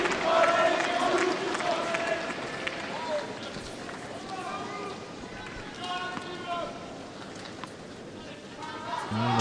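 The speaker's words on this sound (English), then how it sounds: "Just listen to this crowd." A large tennis crowd at the Australian Open, during a 2009 quarterfinal, roars and cheers loudly, a dense wash of voices that is strongest at the start and then settles into sustained, fluctuating crowd noise.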